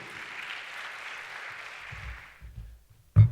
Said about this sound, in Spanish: démosle la bienvenida con un fuerte aplauso a Máximo